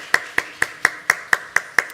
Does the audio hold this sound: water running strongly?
no